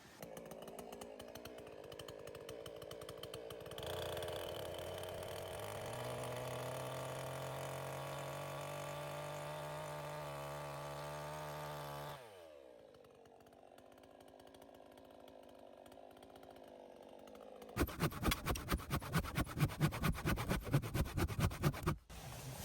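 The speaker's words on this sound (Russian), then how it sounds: "сейчас сделаем надпилы вот здесь вот бензопилой" A chainsaw runs steadily, its engine pitch sliding as it bites into the wood of a forest cabin wall for a window opening, drops to a lower idle, then revs hard in a sharp, pulsing burst at the end.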